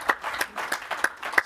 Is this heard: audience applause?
yes